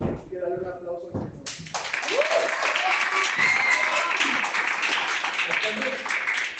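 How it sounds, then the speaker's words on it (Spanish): An audience in a church gives a round of applause for the Lord, a dense, sustained clapping that swells after a brief spoken opening and carries on steadily to the end. "Quiero darle un aplauso al Señor"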